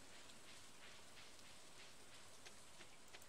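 Rain falling in the farming video game Stardew Valley, a soft, steady patter of drops with faint brighter taps, quiet and continuous with no talking.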